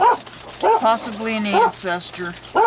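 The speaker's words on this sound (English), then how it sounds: "Excuse my dogs." Small pet dogs bark and yip in bursts indoors, mixed in with and partly under a person talking steadily during a tarot card reading.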